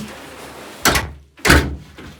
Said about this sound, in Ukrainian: Став заходити в котельню, закриваю двері